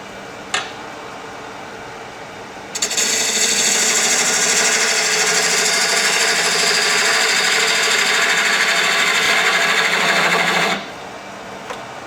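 A powered wood lathe turns end grain with a ring tool. A steady, loud whirring cut starts after a brief pause, holds for about eight seconds, then drops back to a quieter motor hum.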